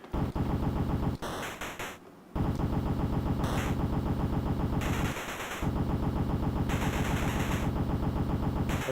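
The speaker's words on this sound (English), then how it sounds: "I see the machine gun works pretty good and then you run out of ammo." Machine gun fire from a PlayStation Classic video game, rapid continuous bursts, loud and close, with a short break and a dip partway through before the firing resumes.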